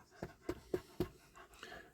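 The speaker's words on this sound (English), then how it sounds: "If you hear panting, it's not me, it's the dog." A dog pants in the summer heat outdoors, giving a series of quick, soft, rhythmic breaths close by, with no talking.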